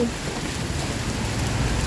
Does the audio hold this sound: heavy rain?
yes